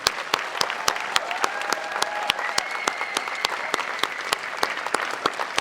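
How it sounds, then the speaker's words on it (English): Audience applause at a gala rolls on steadily, with a wash of many hands clapping and some sharp, close individual claps punctuating it throughout. "I think another round of applause."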